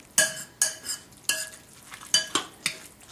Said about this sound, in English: use a spoon. It's good enough. Okay, so just mix that in.